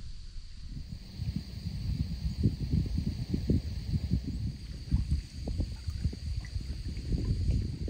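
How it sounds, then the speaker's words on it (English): Steady wind sweeping up Waterbury Reservoir in Vermont at a lakeside kayak campsite, a continuous low rushing roar buffeting the microphone without a break and no one speaking. "Wind coming right up the reservoir."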